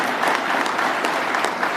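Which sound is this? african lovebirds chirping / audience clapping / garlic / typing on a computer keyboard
audience clapping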